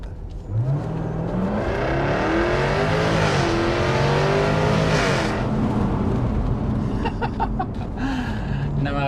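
A Jaguar F-type R V8 accelerates hard through several gears, its blaring exhaust note climbing and dropping at each shift, heard close from inside the car with faint talk behind.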